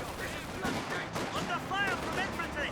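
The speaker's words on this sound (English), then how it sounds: "Raketin firing at some infantry." Bursts of gunfire and explosions ring out in a real-time strategy war game match, faint crackling volleys and booms sitting under a commentator's continuous talk.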